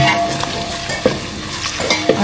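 Ginger garlic paste fries in a pan for a Telugu vegetarian meal, a steady close sizzle with a few sharp stirring scrapes and clicks of a utensil, no talking.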